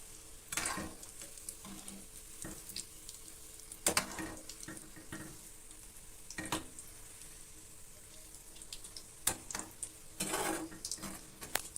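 Mutton balls (kola urundai), made with roasted gram flour, fry in hot oil with a faint, steady sizzle. Occasional louder stirring and scraping clicks break through now and then, with no talking.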